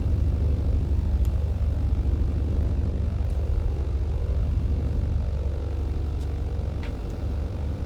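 A propeller aircraft engine drones while taxiing in Microsoft Flight Simulator 2024, a steady low rumble with a throbbing propeller buzz, constant and close throughout.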